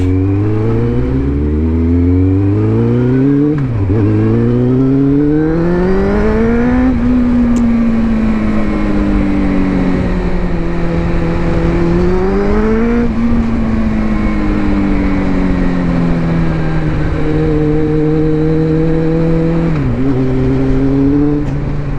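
Suzuki GSX-F four-cylinder motorcycle engine on a ride, loud and continuous, its pitch climbing through the gears with brief dips at each shift and easing off near the end, no talk.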